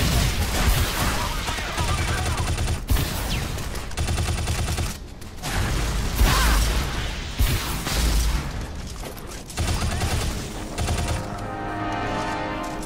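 Missiles launching and bursting in the Shadow Complex video game, a dense, continuous barrage of booming explosions and gunfire-like blasts, loud and layered over game combat noise with a few short lulls.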